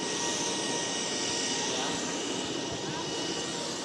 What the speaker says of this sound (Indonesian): Presiden Prabowo Subianto sudah turun dari pesawat di Bandara Silangit Tapanuli Utara